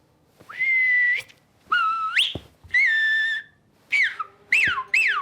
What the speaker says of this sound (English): I do know how to whistle. Listen.